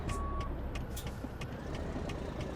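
Reversing beeps from a 2018 Cascadia truck in American Truck Simulator, a steady series of short, evenly spaced electronic beeps over a constant low engine rumble, with no talking.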